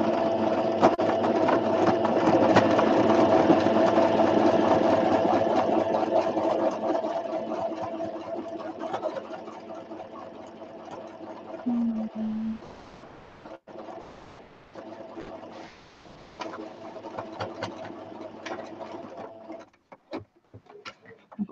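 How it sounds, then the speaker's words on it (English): A sewing machine runs with a loud, steady mechanical hum during fabric pocket book sewing, gradually fading into intermittent shorter bursts of stitching with pauses, ending in quiet. "Sorry about the noise. That's the only trouble with sewing, isn't it?"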